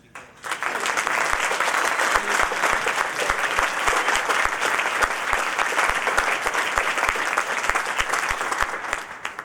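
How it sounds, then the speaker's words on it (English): A crowd breaks into loud, sustained applause that holds steady for several seconds before tapering slightly. "I would just love to have a round of applause for Sue"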